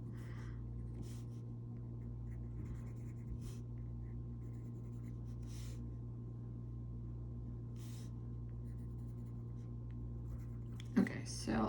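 A pencil scratches faintly and intermittently across cotton shirt fabric, with soft strokes scattered over a steady low electrical hum and a louder rustle near the end.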